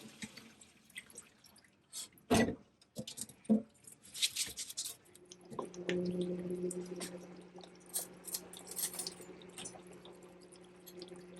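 Rice being rinsed in water in a bowl, with splashy swishing and dripping in short bursts followed by a steadier trickling wash, close and fairly quiet.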